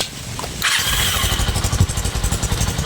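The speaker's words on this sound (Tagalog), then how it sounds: "paandarin nyo muna yung motorcycle nyo." A motorcycle engine, used to run an inverter as a makeshift generator, cranks and catches, then settles into a loud steady idle with a pulsing, chugging rhythm, close and alone.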